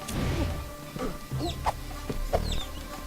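Video game chickens in Guacamelee! cluck in short, scattered bursts over a low background hum, fairly quiet and close, with no one talking.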